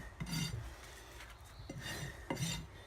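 A rasp scrapes across a horse's hoof during a trim, giving a few loud gritty strokes in bursts with short pauses between them, changing direction with some chatter, close by and with no talk.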